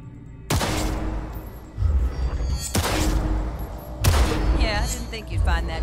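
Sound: pistol gunfire in target practice, video game Cyberpunk 2077

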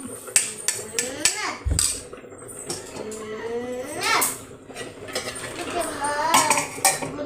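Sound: mashing dal in a pot with a masher

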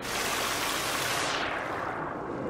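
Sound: flowing water in the video game The Forest

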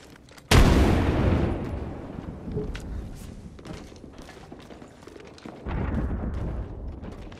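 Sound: frag grenade explosion in video game Apex Legends

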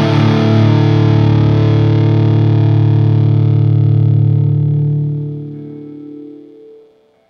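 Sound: guitar through Trident Hi Lo tracking filter

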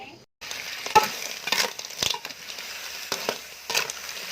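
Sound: stir-frying horse-hoof shellfish with curry paste

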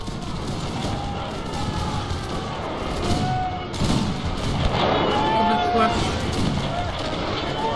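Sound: musket rank firing in video game Napoleon Total War

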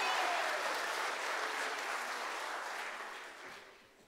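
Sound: congregation applauding children in church

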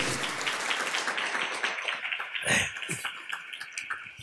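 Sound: congregation applause

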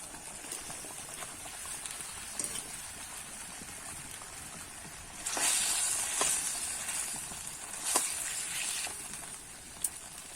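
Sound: Bhetki fish curry broth boiling in pan

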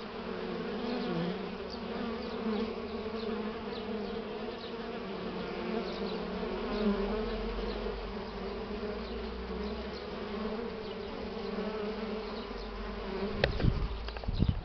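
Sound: swarm of honeybees buzzing

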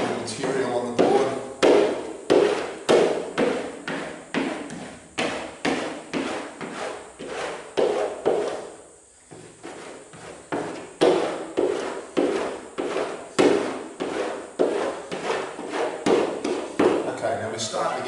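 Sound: rubbing surf wax onto a surfboard

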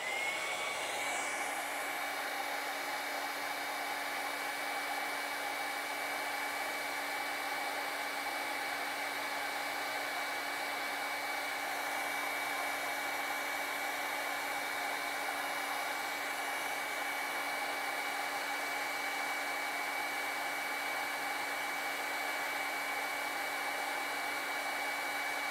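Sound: hair dryer drying acrylic paint on a painting

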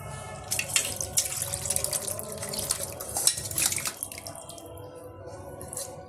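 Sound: mutton with fat poured into a pot

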